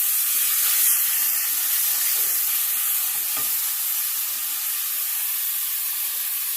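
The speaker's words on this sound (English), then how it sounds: "I think you can hear that sizzling anyway." Onion and garlic sizzle steadily in a hot pan, a continuous bright crackling hiss with no voices.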